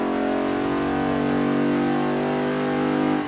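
Porsche 928 GTS with its big V8 revs steadily in Forza Horizon 3, a loud, sustained engine drone with strong low harmonics that holds close and alone throughout, rising slightly near the end.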